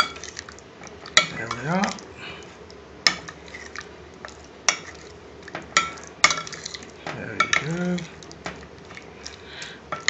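Paneer pieces are stirred with spices in a metal pan, giving repeated scraping clinks and short utensil knocks at an uneven pace. A voice speaks briefly over the stirring.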